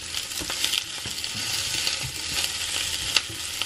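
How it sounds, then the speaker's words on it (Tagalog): Chili, onions and garlic fry in a pan for nasi goreng, giving a steady sizzle broken by scraping stirs and light utensil clicks. "ihuhulog, guys, yung chili at onions. Guys, nilagay ko na itong mga onions. At ilalagay na rin natin yung garlic."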